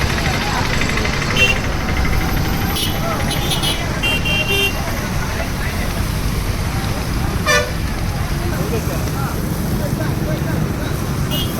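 Busy road traffic near a burning vehicle, with engines idling and rumbling continuously while several car horns toot and honk, short and repeated, over the steady noise; voices talk in the background.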